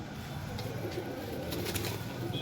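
A female Teddy high-flyer pigeon coos softly at close range, mixed with low rustling and a faint background hum.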